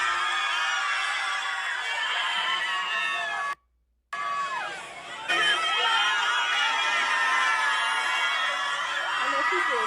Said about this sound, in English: It seems like the whole crowd is cheering for him.